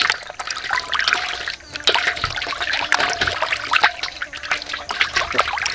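Water from a tap splashes and trickles steadily and close while pork ingredients are rinsed by hand in a Thai kitchen, with sloshing and dribbling throughout.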